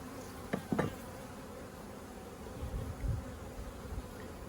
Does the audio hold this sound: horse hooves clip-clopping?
no